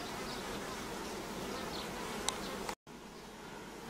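Honeybees drone around a hive at an apiary on a hot 36°C afternoon, a dense, even buzz heard close and unbroken apart from a momentary cut near the end.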